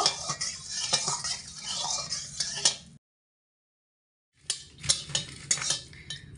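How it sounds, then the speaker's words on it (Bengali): A spatula stirs mustard oil heating in a pan, giving scraping, clinking metal strokes over a light sizzle, interrupted by a short silent gap before the stirring resumes with several distinct knocks. "খুন্তি দিয়ে তেলটা হালকা একটু নেড়ে চেড়ে দেব"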